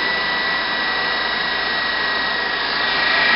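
Steady, loud whine of a running DC motor as its armature field voltage is raised and its speed drops, a continuous even hum and hiss with no pauses.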